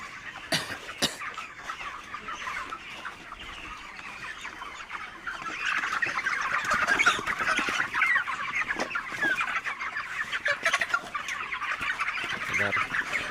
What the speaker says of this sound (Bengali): এইটা আমার এক গড়েই 3000 মুরগি।